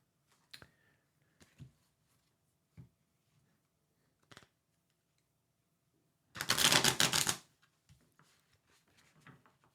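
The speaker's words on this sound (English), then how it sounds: "I'm going to start my shuffling of the cards." Tarot cards are shuffled in a quiet room: a few soft isolated taps and flicks, then one dense burst of riffling about a second long, followed by light scattered handling.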